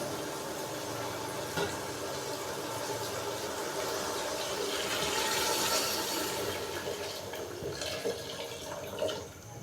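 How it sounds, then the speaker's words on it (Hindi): Yakhni stock is poured into a pan of fried potatoes and peas, giving a steady gushing, sizzling liquid rush that swells and eases over several seconds, fairly close. "अभी मैं इसके अंदर यखनी डालूँगा।"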